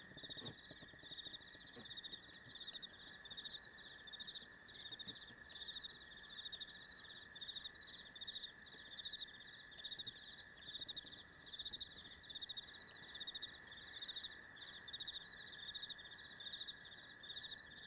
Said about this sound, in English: Those are some nice crickets.